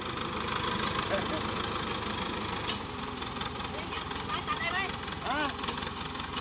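A Ford 7740 farm tractor engine idles steadily with a low, rough rumble throughout, with some faint chirping sounds over it.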